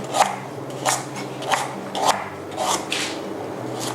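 A knife slices through firm galangal root on a cutting board in steady, evenly spaced strokes, close and crisp with nothing else around.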